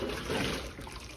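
A brief rush of boiling water splashes and pours steadily into a sink, close by.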